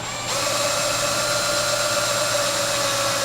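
A power drill drives a wheel spoke tight, starting abruptly and then holding a steady high-pitched whine with a constant motor drone, close and fairly loud, no talking.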